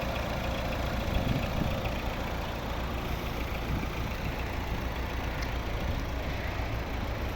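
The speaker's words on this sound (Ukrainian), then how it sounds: "спеціально завів, щоб було чути і було зрозуміло, наскільки рівно тихо працює двигун" A 2016 Volvo V60 2.0 diesel engine idles steadily nearby, a low, even rumble with a constant clattering hum that stays level the whole time.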